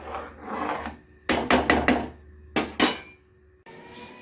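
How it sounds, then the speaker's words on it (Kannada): A pressure cooker lid being closed over pulao in a home kitchen: a quick cluster of sharp metal clanks and scrapes, then two more knocks after a short pause, close and loud, with quiet handling before and after. "ಕುಕ್ಕರ್ ಮುಚ್ಚಿಬಿಡೋಣ"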